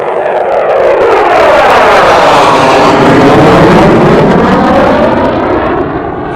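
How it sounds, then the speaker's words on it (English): A jet aircraft passes overhead, very loud, its roar rising and sweeping in pitch as it approaches and then fading slightly as it moves away, with no talking. "Got to love the sound of jet noise."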